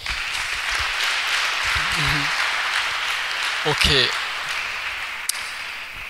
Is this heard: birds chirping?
no